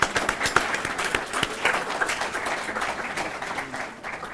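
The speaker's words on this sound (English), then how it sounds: "Round of applause." Dense, steady applause from a university audience honoring a speaker, many hands clapping together at moderate loudness and tapering off near the end.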